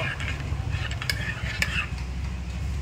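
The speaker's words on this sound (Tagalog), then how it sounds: "Timpla tayo ng kape, guys" A spoon stirring a cup of coffee, with soft clinks and scraping against the cup over a low steady background hum, close and fairly quiet.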